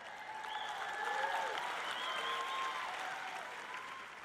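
A congregation applauds and cheers at a Christian teaching event, broad sustained clapping swelling slightly in the middle, with some whoops and raised voices mixed in.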